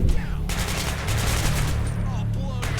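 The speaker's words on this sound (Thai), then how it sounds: "ใครมายิงผม" Rapid, loud automatic gunfire in the shooter game Hatred, a dense fusillade of overlapping shots running almost continuously from start to finish, with bursts breaking off and resuming near the end.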